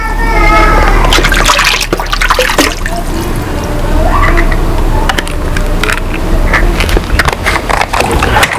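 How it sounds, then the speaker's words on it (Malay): EM4 Plus liquid being poured into a 100-litre lobster aquarium tank, a steady trickling and splashing of liquid into water, close and fairly loud, with a voice talking over it. "Cara nak guna pun mudah, kita cuma tuang di dalam ni."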